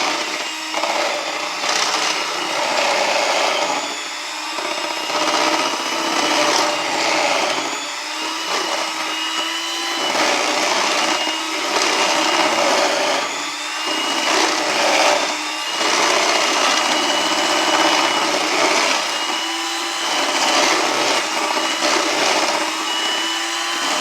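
An electric mixer beats sour cream pound cake batter in a bowl, a continuous close whirring with rhythmic surges as the beaters move through the batter, no talking.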